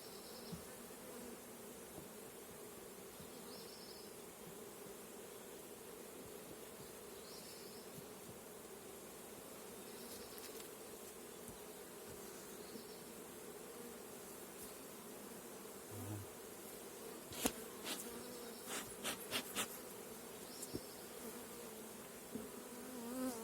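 Honeybees buzz steadily over hive frames at an apiary where bee packages are being assembled, a dense continuous hum with a few sharp clicks and knocks near the end.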